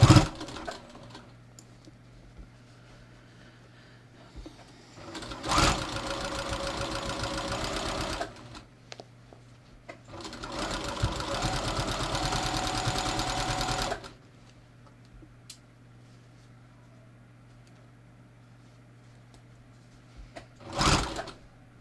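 Sewing machine stitching a jeans hem, running in three separate bursts of steady whirring with quiet pauses and small handling clicks between, close up and without talk.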